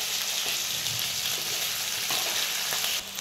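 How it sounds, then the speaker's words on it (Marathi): Brinjal curry sautéing in a pan, a steady close sizzle and frying hiss with occasional stirring scrapes throughout, no voices. "छान आता परतून घ्यायचं आहे छानपैकी."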